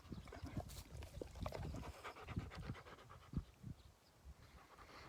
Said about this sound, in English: sheep pant kind of like dogs as well